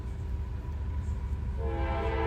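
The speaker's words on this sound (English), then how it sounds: "At milepost 117, we're set up for a southbound CSX train." A southbound CSX coal train passes, led by two AC44CW locomotives: a steady low rumble of engines and rolling cars, with a loud multi-tone air horn sounding near the end.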